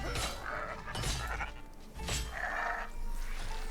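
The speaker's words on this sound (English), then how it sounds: "There's a goat." Goat in RuneScape: Dragonwilds, set in a sandy desert area, bleating several times in short wavering calls spaced across a few seconds, moderately close, over quiet game ambience.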